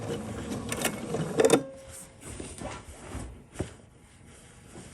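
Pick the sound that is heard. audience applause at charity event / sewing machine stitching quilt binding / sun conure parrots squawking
sewing machine stitching quilt binding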